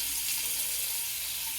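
Water running steadily from a newly installed bathroom sink faucet, a continuous hissing rush at close range with no breaks.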